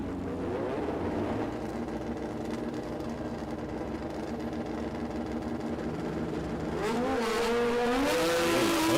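A Suzuki Hayabusa and a Kawasaki drag racing motorcycle at Sydney Dragway rev and launch, a sustained engine roar that rises sharply into a loud climbing howl near the end.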